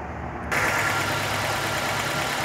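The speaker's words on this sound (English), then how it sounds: "So I'm going to go ahead and start the vehicle and show you guys real quick." Nissan Sentra engine starting with a sudden burst of sound, then settling into a steady, loud close-up idle; the car has a P0300 misfire fault code and a test light is attached during spark testing.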